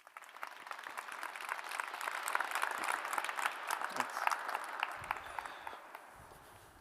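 Audience applause welcoming speaker John Thatamanil at a live premiere event, a steady wash of many clapping hands that swells, holds for several seconds and then begins to fade.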